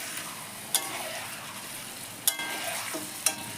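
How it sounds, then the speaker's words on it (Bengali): Chicken frying with spices in a pan for Kolkata-style chicken kosha, with a steady close sizzle broken by three sharp scrapes of a spatula against the metal as it is stirred. "এবার মশলাটার সঙ্গে সুন্দরভাবে চিকেনটাকে কষে নিতে হবে।"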